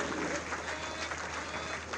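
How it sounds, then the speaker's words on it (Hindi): A crowd applauds for PAC jawans at a foundation day ceremony, a dense, steady wash of clapping heard from some distance for a couple of seconds. "इन्हें तालियों से एक बार आशीर्वाद दीजिए"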